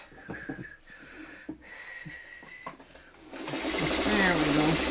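A sewing machine runs a short border seam on a baby quilt, its motor whirring steadily and growing louder and denser toward the end after a few brief bursts under quiet talk.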